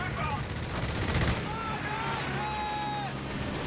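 Strafing-run gunfire in the Company of Heroes 3 strategy game, a dense continuous clatter of shots and battle noise, with a voice talking over it.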